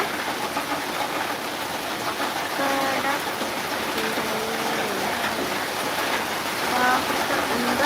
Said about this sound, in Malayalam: ഇവിടെ നല്ല മഴ